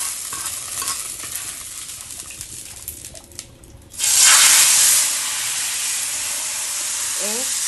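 Small onions dropped into hot oil for tempering payasam burst into a loud, steady sizzle after a quieter stretch of stirring, the hiss staying close and continuous to the end.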